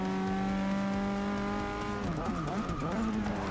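A formula race car in Forza Motorsport 6 brakes hard and drifts slightly. A loud, steady engine whine drops sharply in pitch midway, then wavers with tire squeal and skidding.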